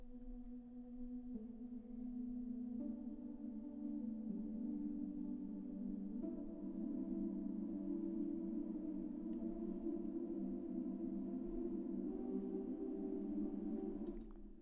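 A soft, sustained chord of layered, vocal-like tones from a sampled choir instrument patch hums steadily, slowly swelling and shifting with no clear beat. Quiet and spacious throughout.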